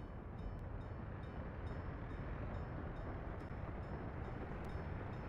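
Freight train departing in the video game Workers & Resources: Soviet Republic, a steady low rumble of rolling rail cars that holds at an even level throughout, heard alone with no talking.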